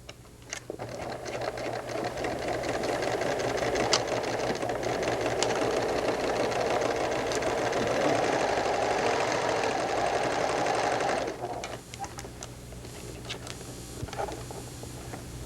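Sewing machine stitching a quarter-inch seam on a knit sweater sleeve cuff, a close, steady mechanical whir with rapid ticking that runs for about eleven seconds, then stops and leaves a few faint clicks.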